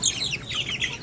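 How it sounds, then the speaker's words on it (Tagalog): Chickens on a farm, one-month-old birds in a typhoon-flooded setting, cluck in a brief, faint, overlapping chorus with no talking. "So tignan natin ang ating mga manok."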